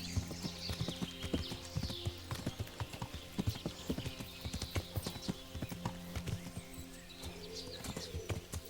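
Horse hooves clip-clop in a steady walking rhythm while riding toward a forest in the video game Kingdom Come Deliverance, with birds and cooing doves in the background.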